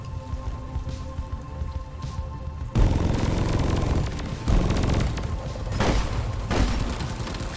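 The Drak-25 laser gun in the Deep Rock Galactic video game fires in a dense, crackling stream of rapid shots, with louder bursts starting partway through and continuing in uneven pulses, close and prominent.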